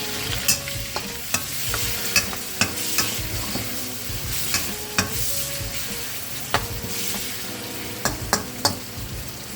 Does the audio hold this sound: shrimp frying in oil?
yes